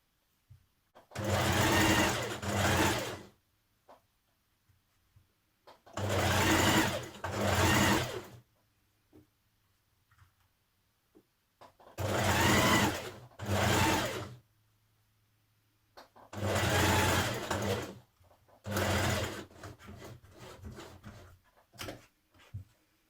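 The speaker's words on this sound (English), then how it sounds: "And now I'm going to stitch close to the edge and stitch that into position." A domestic sewing machine stitches close to the edge of a jacket in five separate bursts of rapid, even whirring, each a couple of seconds long, with quiet pauses between them.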